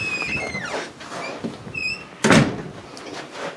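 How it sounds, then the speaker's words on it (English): A house's front door opens on a cold January day, leading toward a basement, with a single loud clunk midway through and quieter rattles and handling noise around it, without talk. "Go in the front door here."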